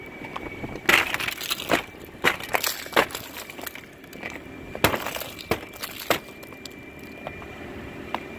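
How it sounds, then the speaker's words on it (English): Repeated crunching impacts of ice being kicked off a car, knocked loose in irregular thumps and cracks over several seconds against a windy background. "I had to kick the ice off my car."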